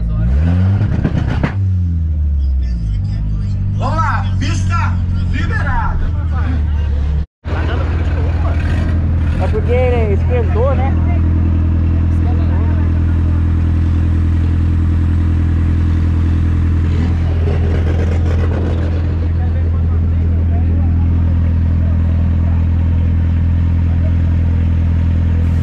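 An Opel Astra race car accelerates down a drag strip lane, with a loud engine revving up through rising gear pulls, a sudden brief dropout, then a sustained heavy drone that gradually fades.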